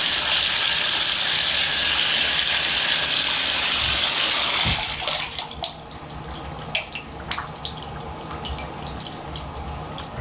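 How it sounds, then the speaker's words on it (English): Water from a bathtub faucet gushes loudly into a draining tub for about five seconds, then shuts off, leaving faint drips and trickling as the tub drains. "So I'm going to turn on the tub, make sure it drains really well."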